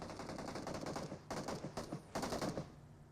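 Rapid bursts of automatic gunfire from the battle-royale video game PUBG, three loud dense volleys with brief gaps between them, close and continuous over the whole stretch.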